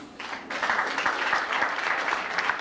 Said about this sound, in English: stand on the steps and we'll applaud